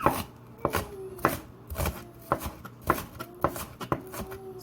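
A knife coarsely chops green beans on a cutting board, with a steady series of sharp thuds at an uneven rhythm, close and fairly quiet.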